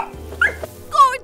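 A cartoon puppy gives a brief pair of yelping, whimpery barks, close and clear, with a high whining quality.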